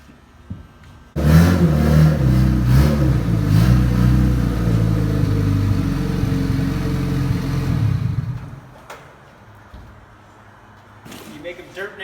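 A Honda Civic engine revs on a dyno roller, a loud, deep rising roar that holds for several seconds and then cuts away to quieter background noise.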